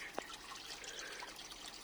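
Koi pond shower water trickling steadily, a soft continuous splash and dribble heard close by, fairly quiet, with no talking.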